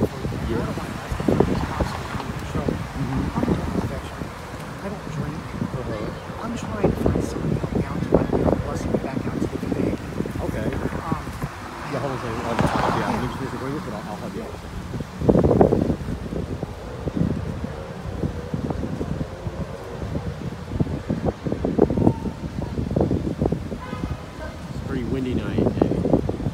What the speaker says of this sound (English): Strong easterly winds, strong high pressure off the east coast. It's bringing in these strong winds.